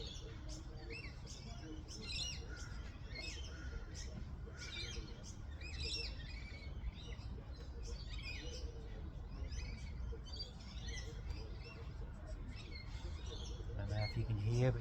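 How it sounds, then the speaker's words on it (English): Many birds chirp and tweet continuously at dawn in a caravan park, over a low steady rumble, with a faint murmur in the background. "just listen to the beautiful sounds of the birds here at a caravan park"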